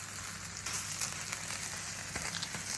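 Soda bread sizzles and crackles steadily in hot oil in a pan, a dense, continuous frying hiss that stays loud and close throughout, with no voices.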